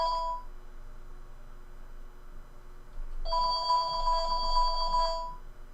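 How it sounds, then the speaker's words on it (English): A phone rings near the microphone during a spoken commentary, with a short electronic ring burst followed by a longer two-second warbling ring, moderately loud with no talking over it. "And my phone is ringing while I'm doing a commentary"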